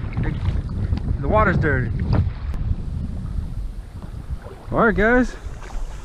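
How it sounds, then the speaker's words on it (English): Wind buffets the microphone on a river during a kayaking trip, a steady low rumble of gusts running under two people talking throughout. "it's windy"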